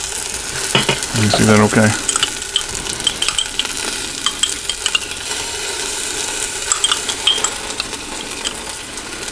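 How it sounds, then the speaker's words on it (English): Minced garlic goes into onions in a pressure cooker pot for pulled pork, giving a steady sizzle with scattered clinks and scrapes, while a brief voice speaks near the start. "I'm going to add my garlic now."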